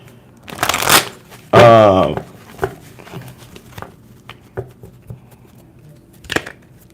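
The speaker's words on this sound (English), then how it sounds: "Still shuffling, the cards ain't ready." A deck of tarot cards being shuffled, with a loud riffle and bridge near the start, then scattered soft taps and card handling, close up, with a voice speaking briefly.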